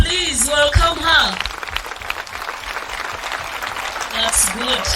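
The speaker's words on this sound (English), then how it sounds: "With a clap, please welcome her." A school audience claps to welcome the arriving director at a Ryeru School ceremony, steady applause filling the room while voices and a sung or called line ride over the top.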